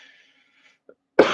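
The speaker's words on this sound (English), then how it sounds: "sorry about the cough" A single sharp, noisy burst near the end, like a cough, after a faint high hiss and a small click; otherwise quiet.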